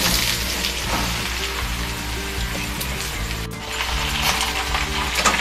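Bottle gourd pieces crackle and hiss as they drop into hot tempering of cumin and mustard seeds, a steady dense sizzle with faint tapping, close and loud with no talk.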